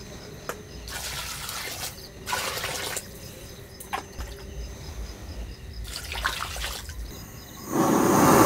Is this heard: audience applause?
no